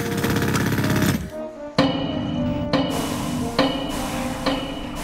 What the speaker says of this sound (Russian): Пилой пилил, долотом долбил, молотком отбивал.